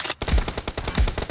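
Rapid video game gunfire bursts out in a tight, loud volley of repeated shots, with heavier low thumps near the start and again about two-thirds through, in a team shooter match.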